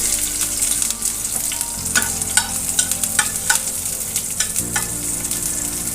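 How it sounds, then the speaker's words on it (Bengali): Crushed garlic and whole cumin seeds hit hot oil with a loud, close sizzle, crackling pops and stirring clicks scattered through a constant hiss, with a low steady hum underneath. "খুব সামান্য একটু গোটা জিরা দিয়ে দিচ্ছি দিয়ে দিচ্ছি থেতো করা রসুন"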